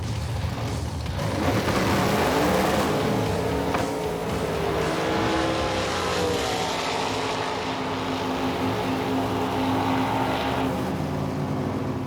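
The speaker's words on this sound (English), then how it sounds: "2 8-second Roadkill cars lighting it up for the honor of the fastest car on Roadkill" Two 8-second Roadkill drag racing cars launch off the starting line, their engines roaring loudly together and then sweeping into a sustained high-revving drone that gradually fades as they pull away.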